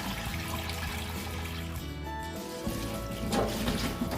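Water from a tap running steadily over noodles being washed for Mauritian vegetarian chow mein, a continuous close splashing and trickling stream that swells slightly near the end.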